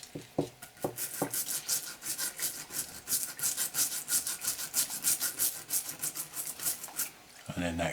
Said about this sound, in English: clean up the back of the board, get the flux off it, and any rubbish or crap or whatever